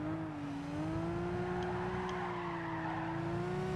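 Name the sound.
BMW car sliding with tyre squeal in Gran Turismo 5 video game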